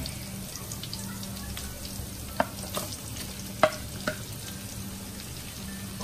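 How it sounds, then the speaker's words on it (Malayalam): Small shallots frying in oil with green chilli, ginger and garlic for a Kerala mango curry, with a soft continuous sizzle and a few sharp spatula clicks against the pan, no voices. "ഇനി ചെറിയ ഉള്ളി നന്നായിട്ടൊന്ന് മൂത്ത് വേണം."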